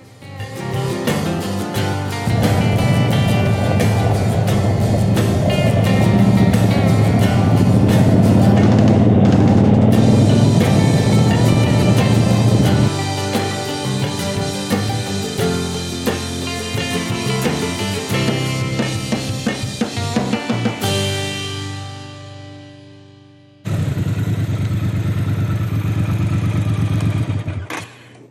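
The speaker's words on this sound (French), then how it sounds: "Ce bicylindre refroidi par eau développe 77 chevaux." A Speedmaster motorcycle with a 77-horsepower water-cooled twin-cylinder engine rides on a road, its steady engine roar running loud and continuous, dropping briefly near the end before resuming.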